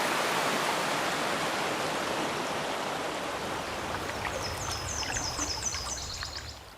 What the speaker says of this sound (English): Whenever I hear what sounds like a little waterfall trickling out